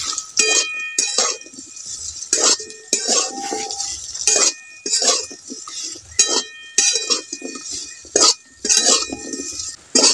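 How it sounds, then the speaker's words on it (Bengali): Raw mangoes being stirred and lightly fried in a pan, with repeated clinks and scrapes of a utensil against the metal coming in irregular bursts, fairly close and with no talk. "আমগুলোকে খুব বেশি ভাজবো না, একটু নাড়াচাড়া করে একটু হালকা করে ভেজে নেব"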